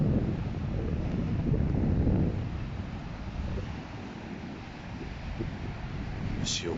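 Ocean waves wash in by a seaside park, a low continuous rumble of surf mixed with buffeting wind noise on the microphone, swelling and easing softly.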